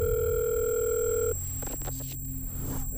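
Steady telephone dial tone from a handset as a call is placed, loud and close for over a second, then cut off and followed by faint clicks and room noise.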